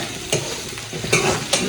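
Mushroom curry masala stirred and fried in a pan, home-style Indian cooking, with close, loud spatula scrapes at three uneven moments over a constant oily sizzle, no voices.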